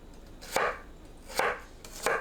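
A knife cuts potatoes into strips on a board in three separate, evenly spaced thuds, each a short crisp slice ending in a knock, close and distinct against a quiet background.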